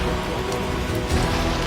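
Heavy rain falls as a dense, steady hiss of drops striking surfaces, loud and close, with no voices.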